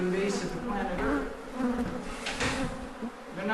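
Feral honeybees swarm a hive built inside a garage, their dense, steady buzzing droning close by throughout with shifting intensity as many insects fly around.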